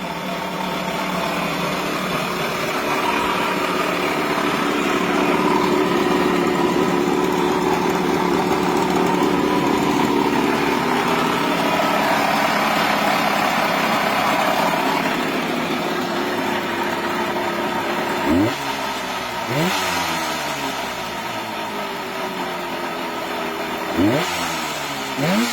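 A classic Suzuki motorcycle engine runs for sale in a steady, loud idle that holds through most of the stretch, then is revved in a few sharp throttle blips toward the end, alone with no talk.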